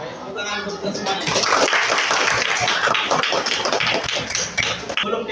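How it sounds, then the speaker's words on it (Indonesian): A junior high school class at SMPN 34 Kerinci breaks into applause. Dense, overlapping clapping swells after the first second and stays busy and fairly loud until the end. "tepuk tangan untuk kita semuanya"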